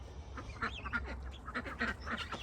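Ducks quack repeatedly in short, irregular bursts close by, several birds calling over a low rumbling background, with guinea birds kept nearby.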